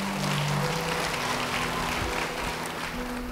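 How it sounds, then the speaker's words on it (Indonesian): Applause from a church congregation during a sermon, a faint, steady wash of clapping heard at a distance under a low, sustained hum. "Beri tepuk tangan bagi Tuhan."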